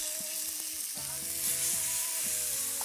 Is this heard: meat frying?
yes